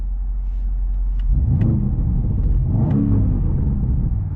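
BMW M850i xDrive Gran Coupe from 2022 with a 4.4-liter twin-turbo V8: a steady deep engine rumble that swells after a second, with sharp exhaust crackles and pops scattered over the drone, close and alone.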